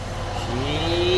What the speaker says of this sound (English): we'll rev it again